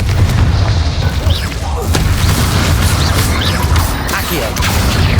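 A Confringo spell explosion goes off in the video game Hogwarts Legacy. It lands as a loud, heavy boom over busy combat noise, with crashes and pops scattered through it.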